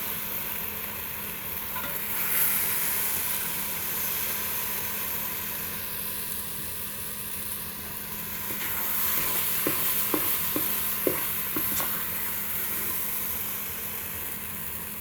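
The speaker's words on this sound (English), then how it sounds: "Scoop these beautiful apples out of here." Fried apples sizzling and bubbling in a Ninja Foodi pot while a scooper works through them, with steady frying hiss and a few faint metallic scrapes and taps toward the end.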